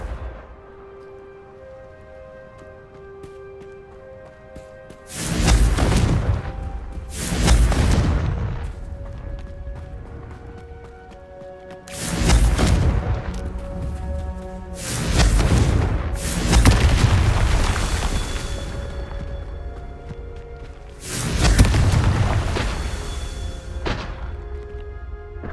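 Repeated Confringo fire-spell blasts from Hogwarts Legacy, in a Merlin trial: five or six loud, deep booming explosions at irregular intervals, each with a fiery rumbling tail, over a quiet musical bed.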